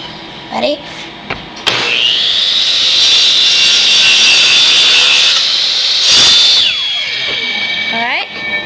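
Mitre saw cutting a 45-degree angle in wood: the motor spins up with a sharp whine, a sustained loud cut follows for several seconds, then the blade winds down, with a short spoken word before it starts.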